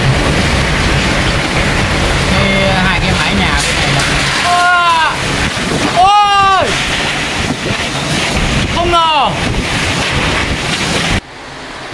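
Strong typhoon wind from Typhoon Yagi roaring in Ha Long, a loud continuous rushing blast with gusty surges, heard close through an opened door, with a voice speaking over it and the roar cutting down near the end.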